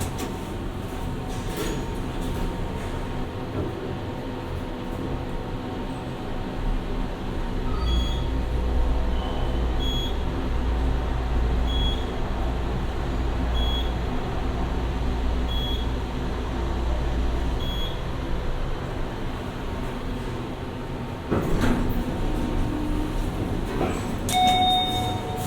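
A modernized Dover glass elevator at the Yellow Ramp parking garage in Appleton, Wisconsin rides back down. A steady low hum and rumble lasts throughout, with a few faint chimes, clicks and a brief shift near the end.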